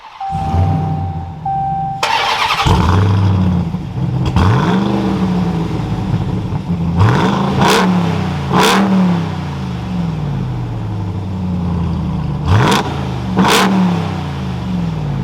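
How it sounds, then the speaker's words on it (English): A 2022 Ram TRX 1500 pickup truck engine cranks and fires up, then revs loudly several times in sharp bursts before settling into a steady, throaty idle close by. "let's fire this TRX back up"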